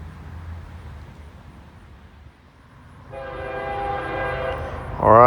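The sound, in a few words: southbound I&O freight train M205 with horn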